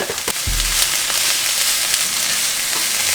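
Onions, bell peppers, mushrooms and garlic sauté in a pan with a steady, bright sizzle, punctuated by a few clicks and scrapes as the vegetables are stirred.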